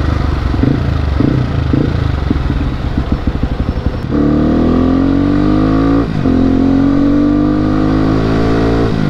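A modified motorcycle with newly upgraded parts revs hard on the throttle, loud and close, with a steady engine roar that rises in pitch and is briefly cut before climbing again, no talk over it.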